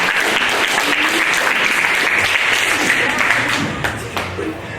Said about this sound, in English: Let's have another big round of applause for them